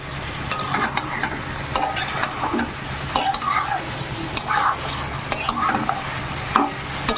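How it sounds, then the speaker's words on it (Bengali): Soybean chunks and potatoes frying in spices in a pan while a spatula scrapes and stirs them in repeated strokes over a steady close sizzle. "আলুতে এবার সোয়াবিনগুলোকেও খুব ভালো করে কষাবো"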